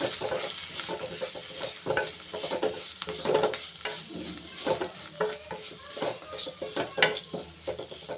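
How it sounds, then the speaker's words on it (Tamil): Sweet potato and grated coconut are stirred in a hot pan, giving a steady soft sizzle broken by irregular scraping and clinking of a spoon against the pan throughout, with no talking. "நல்லா மிக்ஸ் பண்ணி விட்டுக்கலாம்"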